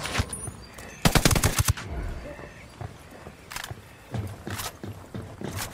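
Video game machine gun fire in a military campaign: a loud, rapid rattling burst near the start, then scattered shorter bursts and single shots over background game noise.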